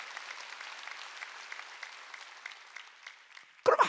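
A church congregation at a Korean Wednesday worship service breaks into loud applause at the very end, after a stretch of faint, muffled sound.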